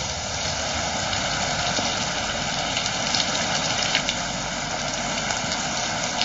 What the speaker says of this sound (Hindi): आज बारिश पूरे शबाब पर है।